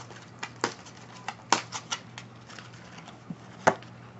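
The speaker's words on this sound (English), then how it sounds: "As I shuffle the deck" A deck of oracle cards being shuffled by hand, giving soft scattered flicks and taps spaced irregularly, with a few sharper snaps against a quiet, low hum; no talking.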